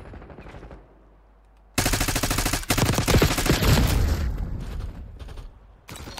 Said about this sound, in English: Point blank range with a shotgun and he doesn't...